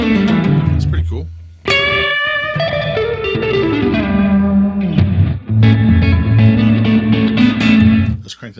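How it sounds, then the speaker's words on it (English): Electric guitar notes through a Fender Reflecting Pool delay and reverb pedal swell in with a reversed, backward-building reverb, sustained washy tones with heavy effects, played loud and continuous. "It's like a reverse reverb."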